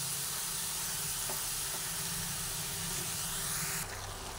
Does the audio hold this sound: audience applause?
no